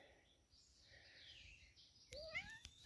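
A single short cat meow rises out of quiet outdoor background noise, fairly faint, with a few soft clicks after it.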